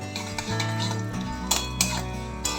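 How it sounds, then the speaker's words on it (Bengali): Chopped green chili and curry leaves are stirred in a pan with a utensil, giving close, steady scraping and clinking against the metal, with a few sharper knocks punctuating the continuous stirring. "কারি পাতাটা দিয়ে আবার কয়েক সেকেন্ড নেড়ে নিতে হবে"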